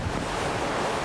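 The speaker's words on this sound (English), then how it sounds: "Beautiful sun, the waves crashing in, and I love this campsite." Ocean waves wash onto the beach at Thrasher Cove on the West Coast Trail, a brief, steady surf roar with no voices.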